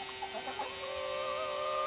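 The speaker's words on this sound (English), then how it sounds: "I gotta watch the rooster" A young rooster from a batch of home-hatched chickens makes soft clucking calls, faint and somewhat distant over a steady background hum, with no one speaking.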